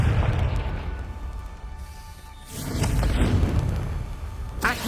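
A Confringo blasting spell goes off in a Harry Potter video game, a deep booming blast that swells, fades, then surges again with a second burst and a sharp crackle at the end.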